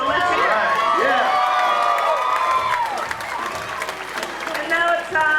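A sellout crowd at an indoor roller derby bout applauds, cheers and whoops loudly and steadily, with shrill shouts and bursts of clapping filling the room.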